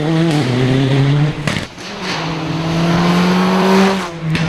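BA Components Toyota Corolla rally car racing through a park stage, a loud close engine note holding high revs, dipping sharply on a gear change, then climbing again as it drives past.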